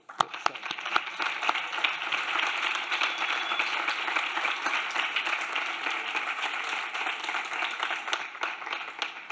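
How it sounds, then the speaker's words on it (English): Sustained audience applause for the teams at a kids' pitch competition, steady and full for about nine seconds with dense overlapping clapping. "I would like to applause to all of the teams."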